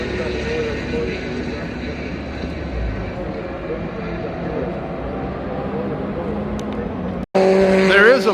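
A race car at a historic sports car event at Road Atlanta, heard as a steady, loud engine roar with a deep, throaty tone and faint tire noise, cutting out abruptly near the end before a louder burst returns.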